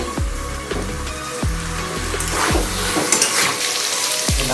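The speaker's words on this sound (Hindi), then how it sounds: "चिकन को अच्छी तरह से भूनेंगे।" Chicken frying in a pot for a chicken curry, with a constant loud sizzle and intermittent stirring scrapes and clanks against the pan, close by and with no talking.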